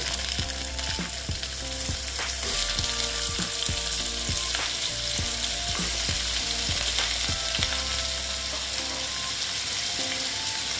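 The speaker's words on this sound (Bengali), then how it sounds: "দিয়ে আলুগুলোকে আমি ভেজে নেব" Potatoes fry in hot oil with a loud, continuous sizzle, punctuated by a series of sharp clicks and scrapes from stirring in the pan.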